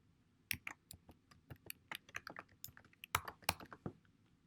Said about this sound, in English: you would simply start typing in the box